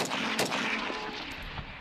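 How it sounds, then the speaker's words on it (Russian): Gunfire is aimed at a portrait, coming as a quick burst of sharp shots that blur into a dense, loud crackle lasting under two seconds. "ейчук угрожает лидеру Чечни Рамзану Кадырову и даже расстреливает его портрет."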